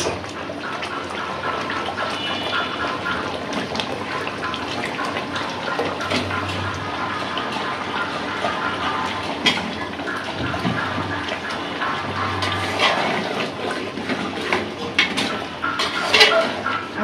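Water is poured into a pot of beef curry cooking with potatoes, a continuous close splashing and pouring wash with a few faint clinks of cookware, steady throughout and moderately loud, with no voices.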